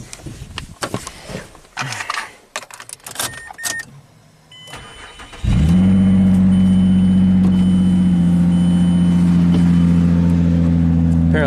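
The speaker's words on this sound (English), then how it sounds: "sweet aftermarket exhaust. Yeah, that sounds mean." A Mazda 6 engine with an aftermarket exhaust cranks and roars to life with a deep, loud exhaust rumble, idling steadily and aggressively after some earlier clicks and rustling.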